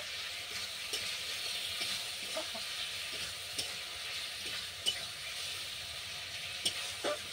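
Fried potatoes tipped into a hot pan of frying food and stirred, giving a steady bright sizzle with scattered scraping clicks and taps from the utensil, all without speech.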